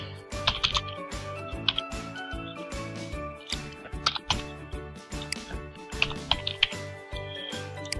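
Typing an NID number and birth date on a computer keyboard, with a run of close, crisp key clicks in uneven bursts and a few louder taps.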